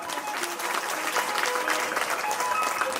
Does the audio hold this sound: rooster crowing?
no